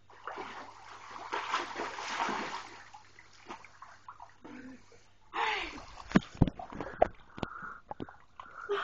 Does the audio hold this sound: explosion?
no